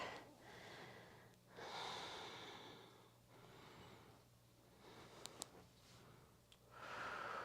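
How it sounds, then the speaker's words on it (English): Deep, slow breathing during a rest in a prenatal core and glutes workout, heard close and quiet as several long inhales and exhales at a relaxed, even rhythm, with no talking. "Breathing."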